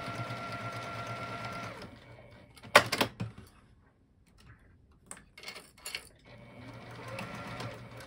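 A domestic sewing machine stitches a coin pouch lining in short bursts, a close rapid whirring hum that stops, gives way to clicks and handling noises, then resumes.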